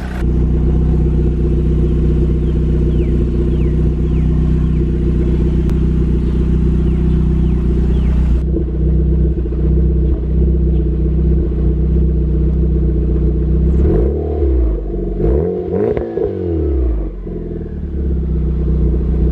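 A built MK6 Golf R engine idles loud and close, steady for a stretch, then revs up in several rising and falling pulls as the gas pedal is pressed.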